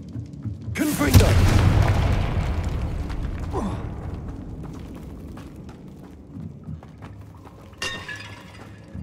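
Confringo explosive spell blast from the Hogwarts Legacy video game: a loud shattering boom near the start, with crackling debris trailing off over several seconds and a smaller burst near the end.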